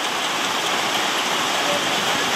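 Heavy rain pours down steadily in a dense, close hiss with no breaks, loud and even throughout with no voices over it.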